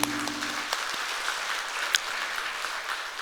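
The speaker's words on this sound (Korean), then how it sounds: "하나님께 박수로 영광 올리십시다." Church congregation claps together in sustained, dense applause in a worship service, close and steady throughout.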